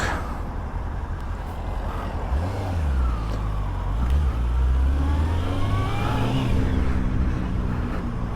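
A Honda CBF600S motorcycle riding on the road, its engine droning steadily up close, with rising and falling revs as it accelerates and shifts, plus wind noise throughout.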